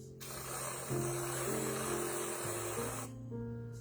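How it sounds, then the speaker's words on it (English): A spray can, likely whipped topping, sprays steadily onto a banana pudding pie for about three seconds, a close, continuous hiss with slight pitch shifts. "now let's just spray it on."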